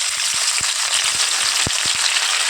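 Banana flower sizzles steadily in hot oil, a constant crackling hiss dotted with sharp pops and spits.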